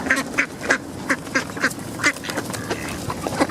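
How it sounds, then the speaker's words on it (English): Ducks quack repeatedly at a feeding spot, a steady run of short, close quacks with no speech over them. "You look like the Floyd duck."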